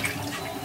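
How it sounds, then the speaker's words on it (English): Soapy water poured out of a container after rinsing clinic tools, a brief close splash and trickle. "So once you're done rinsing all of your tools, you just dump your soap out."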